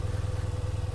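A Kawasaki motorcycle engine idles in neutral nearby, a steady low, pulsing putter with a regular throbbing rhythm and no talking.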